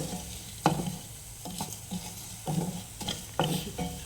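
Dry spices for sambar roasting together in a pan, with a spoon scraping and stirring in about half a dozen quick, uneven strokes over a soft background crackle.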